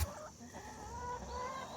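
Hens clucking softly on a homestead in the early morning, a few close, brief calls over a low background hum, with no talk.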